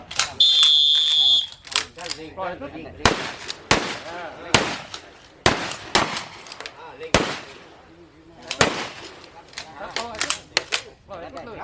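Live rounds are fired at a village security volunteer shooting training session in Wiang Sa, with several sharp, loud gunshots spaced irregularly across the clip, each with a short echo, while an instructor gives commands between shots.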